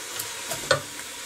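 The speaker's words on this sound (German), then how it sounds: "Ich lasse das jetzt hier erstmal schön vor sich hin dünsten und rühre das immer mal wieder ein bisschen durch." Red onions sweating gently in a pan, a faint soft sizzle broken by a few quiet scrapes of stirring.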